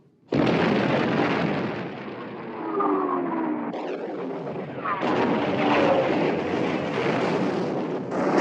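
Warship guns fire in a 1960 WWII naval war film: heavy booming blasts with a rolling roar that sustains, then a second sharp burst about halfway through, loud and close.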